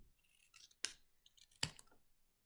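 Two crisp scissor snips cut through a small paper scrap for a dinosaur craft, each a sharp close-up crunch separated by quieter rustling of the paper in between.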